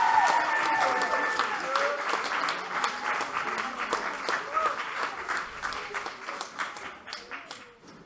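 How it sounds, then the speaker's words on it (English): Audience applause at a youth poetry slam in the Bronx, a dense steady wash of clapping for a sixth-place finisher that starts loud and gradually thins and fades, with voices mixed in. "Clap for Shira coming in 6th"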